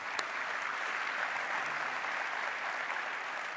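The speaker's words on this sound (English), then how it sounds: "Let's get a round of applause." A steady round of applause from an audience at a business talk, even and sustained clapping at moderate distance, fairly quiet overall with no voices over it.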